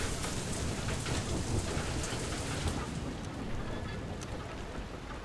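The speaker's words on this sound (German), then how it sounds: "Oh, es fängt wieder an zu regnen. Zu hageln." Rain and hail pound down in the video game FAR: Lone Sails, a dense hiss of drops with a rumbling low undertone that eases slightly toward the end, no voices.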